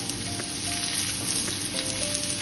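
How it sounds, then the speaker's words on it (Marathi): Thalipeeth flatbread frying in ghee on a hot tawa at medium heat, a close, steady sizzle with faint crackles and no talk. "अशा प्रकारे थालीपीठ घालायचं आणि साईडने पण एक तूप सोडायचं।"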